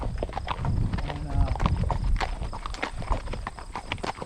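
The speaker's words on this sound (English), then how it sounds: "She's a real nice little working horse." Hooves of a small working horse clip-clop steadily on a hard surface, close and fairly loud, with continuous farm background noise.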